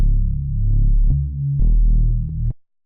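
Short synth layer patch built in Ableton Operator without FM, a warm low sustained tone with a couple of swelling note changes and light reverb, loud and close before cutting off abruptly.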